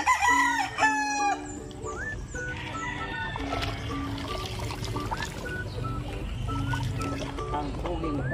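Chickens cluck and squawk nearby while water pours and splashes steadily as a chicken is bathed, with occasional voices in the background.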